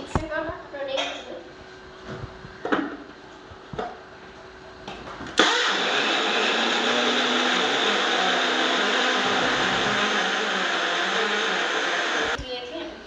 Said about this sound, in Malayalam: ആദ്യം നമുക്കിതൊന്ന് അരച്ചെടുക്കാം. മിക്സിയൊക്കെ റെഡി ആയിട്ടുണ്ട്.